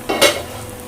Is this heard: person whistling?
no